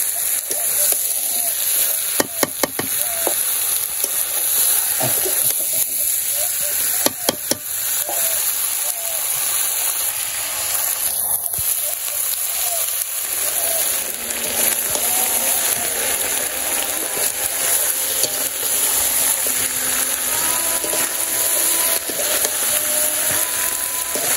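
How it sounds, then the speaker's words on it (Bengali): Meat sizzling and being stirred in a pot over a village cooking fire, a steady hiss of frying throughout with occasional scrapes and clinks. "মাংসটা আমি কষাইতে থাকি।"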